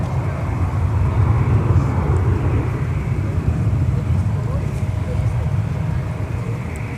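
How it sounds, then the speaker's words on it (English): Delta Boeing 737-900ER taking off from runway 12 left at Minneapolis–St. Paul, a steady, rumbling jet roar heard from a distance that swells slightly and then holds. "And departing off runway 12 left is Delta 518 for Bismarck with a 737-900ER."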